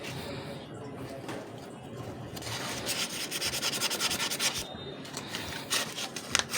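Rough abrasive rubbing against a rear brake caliper rubber boot to clear off dirt; a rapid, rhythmic scratchy scraping that intensifies midway, close up, with no talk.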